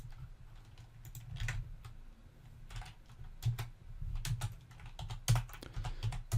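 Keystrokes clatter on a computer keyboard in quick, uneven bursts, close and fairly quiet, with no talking.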